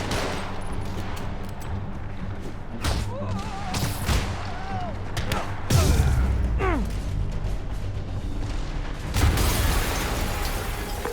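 Explosions and bursts of gunfire in Marvel's Spider-Man Remastered ring out loudly, with heavy booms and crackling blasts layered over game sound effects and speaking voices throughout.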